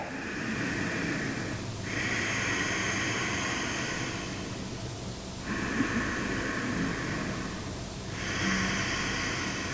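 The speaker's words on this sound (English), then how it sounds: "And now with the Ujjayi breath, we do the same thing on the inhale as well." Ujjayi yogic breathing, slow constricted breaths with a hoarse, ocean-like hiss, heard close up in long alternating inhales and exhales of about two to three seconds each.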